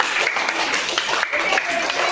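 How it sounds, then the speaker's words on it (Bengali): Children at a yoga day gathering clap loudly in a dense, unbroken wash of applause, with an adult voice calling out over the clapping. "হাততালি জোরে খুব সুন্দর"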